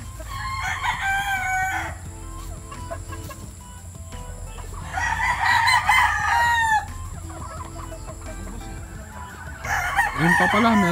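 Roosters and hens at a game farm in Montalban, Rizal crow and cluck loudly and close by, with repeated crowing bursts over steady clucking and a faint voice now and then.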